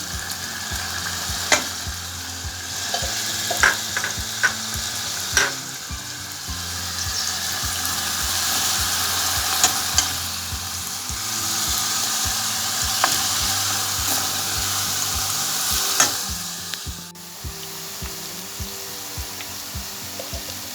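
Capia peppers fry and get stirred in a hot pan for an Imam Bayildi dish, giving a steady loud sizzle with intermittent scraping stir clicks and a brief watery lull near the end.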